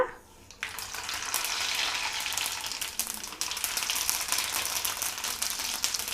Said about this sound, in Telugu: ఆయిల్ కాయిందండి ఇప్పుడు ఆవాలు వేస్తున్నా